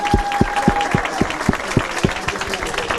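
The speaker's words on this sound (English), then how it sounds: "All right, everybody give him a nice round of applause" A small audience claps in steady rhythmic beats at a college football commitment signing for Eastern Michigan University, clear and close, fading after a few seconds.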